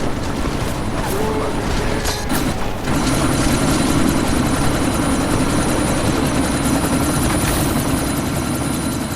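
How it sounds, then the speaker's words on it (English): Helicopter from the video game Deus Ex: Mankind Divided during a sandstorm: a steady, close rotor thrum with mechanical ratcheting and whirring, a few sharp clanks early on, then a constant drone. "you need to disable that chopper."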